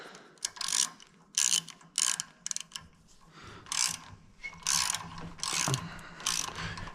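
A ratchet wrench cranks bolts tight on a Gleaner R52 combine, close bursts of rapid clicking repeated in short strokes with brief pauses between them.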